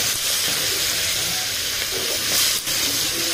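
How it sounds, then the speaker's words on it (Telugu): Brinjal (eggplant) pieces fry in a pan while being stirred, a steady close hiss and sizzle with scraping stir sounds and a brief louder burst near the end. "ఇలా వంకాయలు బ్రౌన్ కలర్ వచ్చే వరకు మిక్స్ చేసుకోవాలి."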